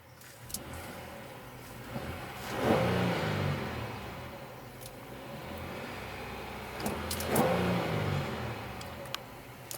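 A 2017 Honda Pilot Elite AWD's 3.5-liter V6 revs twice, each a smooth swelling rise and fall in engine pitch, heard somewhat faint and distant over a steady background hum.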